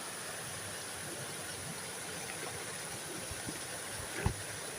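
A steady, muffled rush of spring water flowing beneath ice runs throughout, with a couple of soft low knocks near the end; no voices.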